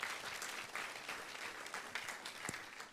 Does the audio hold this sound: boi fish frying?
no